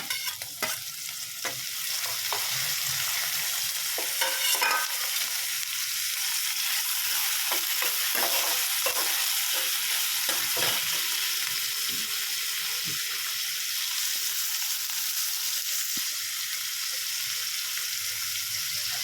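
Onions and tomato fry in a pan for a chapati oggarane, giving a loud, continuous hissing sizzle with occasional stirring clicks and scrapes, and no speech over it.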